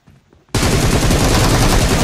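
Sustained automatic gunfire in the mobile battle-royale game Battlegrounds Mobile India: after a brief quiet moment with faint sounds, a loud, dense barrage of shots bursts in abruptly and roars on continuously, close and unbroken to the end.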